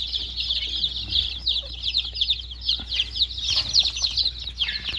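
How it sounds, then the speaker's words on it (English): Many small chicks peep in a constant high chatter close by inside an automatic egg incubator, with occasional soft rustling beneath a low steady hum. "Bunch of little chickens, all huddled up, under heat."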